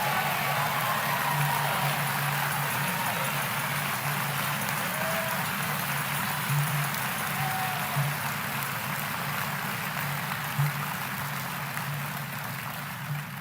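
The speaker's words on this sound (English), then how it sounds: "Give the Reverend Jesse Jackson another loving round of applause." A convention crowd in Chicago applauding, a dense, sustained roar of clapping from a large audience that holds steady throughout, with faint cheers rising above it.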